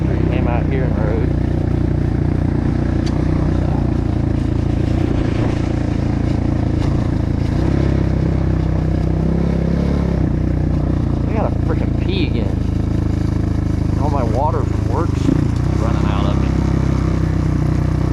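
A Kayo K4 250 dirt bike rides along trails, its engine droning steadily with some throttle changes, while a person talks over the ride for much of the time.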